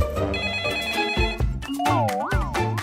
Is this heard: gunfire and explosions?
no